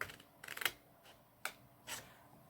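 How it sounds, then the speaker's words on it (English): Scissors cutting grey triangles out of card for Christmas crackers, a few short crisp snips and rasping cuts spaced irregularly, close and quiet. "you just go along cutting each of the grey triangles out"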